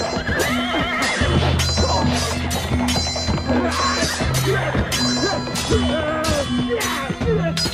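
Two chosen horses clash in battle, each ridden by a war commander, in an Indonesian audio drama: repeated loud whinnies and neighs over clattering hooves and sharp crashing impacts, with low sustained tones underneath throughout.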